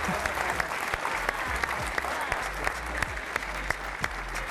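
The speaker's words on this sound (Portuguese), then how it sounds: "Um aplauso para o Eduardo, que volta para o seu lugar." A studio audience at a game show applauds for a returning contestant, dense sustained clapping from a crowd with sharp individual claps standing out throughout.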